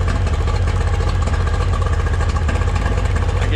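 An outboard motor runs on the bench with a misfiring cylinder, a steady close mechanical chugging with a rapid uneven pulse throughout.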